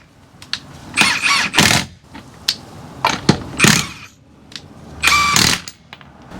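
An impact wrench removes lug nuts from a Toyota Tundra in several short, loud rattling bursts separated by brief pauses, close up.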